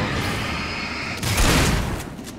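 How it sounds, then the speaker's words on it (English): A pump-action shotgun fires in Alan Wake with a loud booming blast midway, rising out of a dense rumbling background and decaying over the following second. "I got a pump action shotgun"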